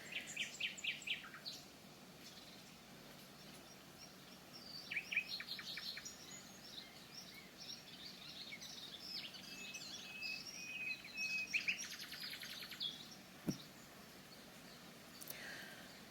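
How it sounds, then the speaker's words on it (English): A blackbird sings in a summer garden near a natural pond under oak and walnut trees, faint and distant phrases with chirps and trills scattered across a quiet outdoor background. "that's a blackbird singing in the background"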